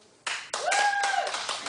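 A studio audience at a daytime talk show bursts into clapping, a short dense burst of many hands that swells quickly and holds, with a faint sustained tone riding underneath.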